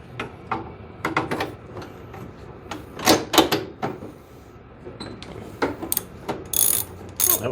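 A hand ratchet works on bolts of a Toro snowblower in quick clicking bursts, separated by short pauses and clanks of metal, all close up and without speech.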